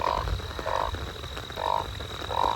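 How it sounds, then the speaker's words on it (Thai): Frogs croaking at night in heavy rain, four loud, evenly spaced croaks ringing out over a steady patter and hiss of rainfall, with a thin insect-like whine running underneath. "โอ้กบ"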